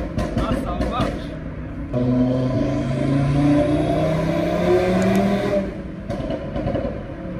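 A tuned Audi TT RS engine of over 600 hp revs up and holds a loud, rising growl for a few seconds, then drops back, with people talking around it.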